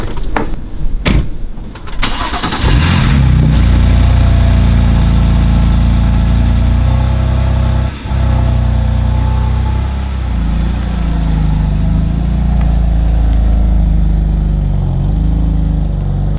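A pickup truck with a trailer hitched idles and rumbles steadily while backing up, a loud continuous low engine drone after a brief clatter at the start, with no talk over it.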